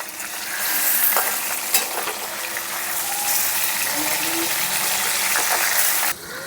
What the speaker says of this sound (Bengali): বাটার আগে একটু উল্টিয়ে দিই মাছগুলো।